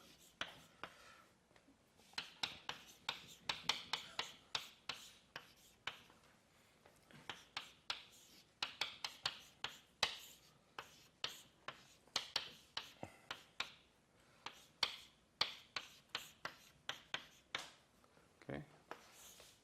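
Chalk or marker writing out equations on a board during a theoretical physics lecture on Regge theory: a steady run of quick taps and short scrapes, moderately close, with gaps between strokes.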